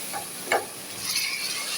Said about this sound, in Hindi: तो इसको अब हम भूनेंगे